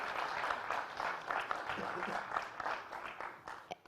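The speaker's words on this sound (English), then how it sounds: "Let's hear a round of applause for the judges and the startups" A conference audience applauds the judges and startups at a pitch contest finals, with dense, steady clapping from a crowd that fades slightly toward the end.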